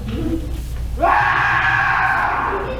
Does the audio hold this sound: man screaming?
yes